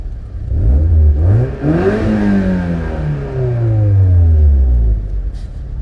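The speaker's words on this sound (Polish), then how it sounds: "Ja mogę mieć głośny samochód" A loud Mazda MX-5 engine revs hard, pitch sweeping up and down in repeated surges over several seconds, close and continuous.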